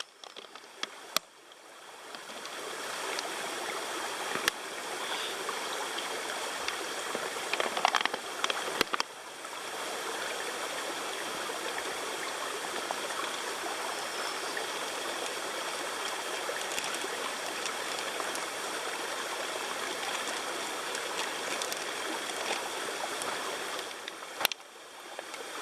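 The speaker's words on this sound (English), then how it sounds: "So after you fill up the bag, dirty water, put your filter on, squeeze you some out." Dirty water squeezed from a filled bag through a camping water filter outdoors on a rainy day, making a steady, continuous trickling stream of water that runs almost unbroken, fairly close.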